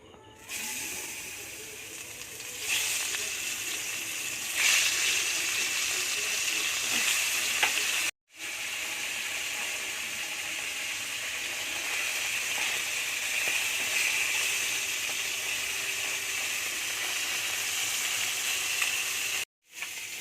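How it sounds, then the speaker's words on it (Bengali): River fish fry in hot mustard oil in a kadai, a loud, continuous sizzle and hiss that runs for about twenty seconds, broken only by two brief cuts, with no talking. "প্রথমে আমি নদীর মাছগুলোই ভেজে নেব"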